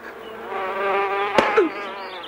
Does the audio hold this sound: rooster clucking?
no